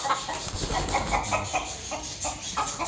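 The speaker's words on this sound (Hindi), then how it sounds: "ये अक्सर ये मुर्गी यहाँ पर आके बैठ जाती है" Hen perched on a roof beam at home clucking in short repeated bursts, close and fairly loud over a busy background, no talk.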